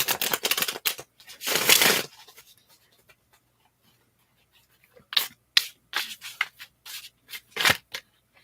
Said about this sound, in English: And I will shuffle your cards just a little bit more.